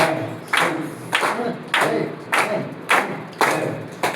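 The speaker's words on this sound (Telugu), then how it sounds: "11 క్లాప్స్ కొడు అందరూ ఒకసారి" A church congregation at a Sunday worship service claps together for a birthday, a series of loud, evenly spaced group claps in a steady rhythm with no talking over them.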